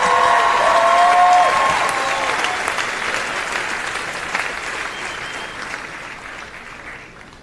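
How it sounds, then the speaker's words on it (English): A graduation audience at John Jay's 2024 ceremony applauds the senior class president, a broad steady wash of clapping that starts loud and slowly tapers off, with a brief tone sounding at the start. "A round of applause for Nick Samarco,"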